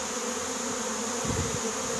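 A dense swarm of honeybees, about 2.5 kg, buzzes steadily, a constant droning hum with no pauses.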